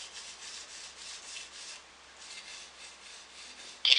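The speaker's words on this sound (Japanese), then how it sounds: "切削を研ぐ時には柄を上げることで切先が当たり研ぐことができます" A deba knife sharpened on a whetstone, rhythmic back-and-forth rasping strokes, steady and close but quiet, ending in a brief louder scrape.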